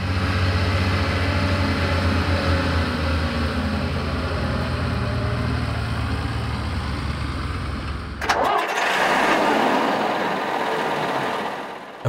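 A Schlüter Super 1500 TVL tractor engine runs at an agricultural field day with a steady, loud diesel chug for about eight seconds, then cuts to a different, breathier rush of engine noise.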